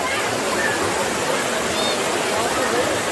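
Yeoor waterfall in Thane pours in a constant loud rushing roar of falling water, nearby and unbroken, with a voice faintly present under the noise.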